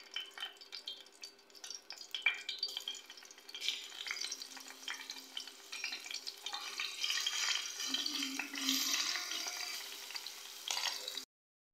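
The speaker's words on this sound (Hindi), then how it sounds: "हम दाल के लिए अच्छा सा तड़का तैयार करेंगे" Ginger garlic paste frying in about half a cup of hot oil in a pan for a moong dal tadka, giving a steady loud sizzle and crackle that rises and holds throughout, with occasional stirring clinks and no talk.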